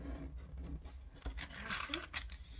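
Paper being folded by hand for origami gives quiet crinkles, soft scrapes and creasing rustles in a short, close, faint run, with no talk over it.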